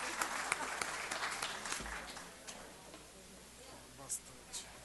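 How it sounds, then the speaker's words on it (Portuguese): A crowd claps in a burst of applause that is loud at first, then gradually thins and fades to scattered claps. "Dá uma salva de palmas para a nossa assessoria jurídica"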